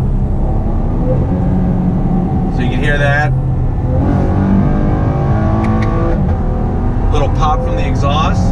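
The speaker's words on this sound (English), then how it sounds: "You can hear that downshifting." A 2019 Chevy Camaro RS in performance shift mode downshifts on its paddle shifters, its engine and exhaust rumbling steadily throughout with brief rev blips, while someone talks over it.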